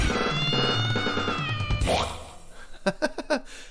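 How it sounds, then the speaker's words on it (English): A loud, drawn-out cat-like meow, whiny and wavering, followed by a short series of sharp, choppy yowling bursts, close and clear with no talk over it. "It sounded kind of like a cat"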